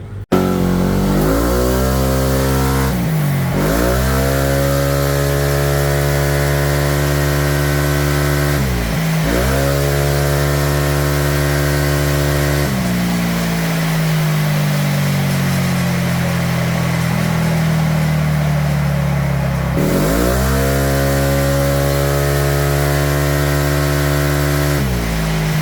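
A Yamaha Aerox v1 scooter with a remapped stock ECU revs hard on a dyno. The engine climbs repeatedly to high revs, drops back, and makes one long sustained pull, loud and close the whole time.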